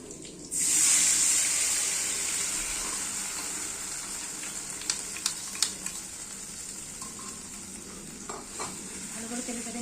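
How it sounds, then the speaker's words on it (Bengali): Ground poppy seed paste hits hot oil with a sudden loud sizzle that settles into a steady frying hiss, with a few light clinks of stirring near the end. "এই যে পোস্তটাকে গুলিয়ে তেলে দিয়ে দিচ্ছি।"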